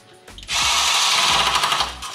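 A power drill drives a screw to mount a fluorescent light ballast, a loud high whine that starts after a brief pause and runs steadily for well over a second before easing off, close and alone.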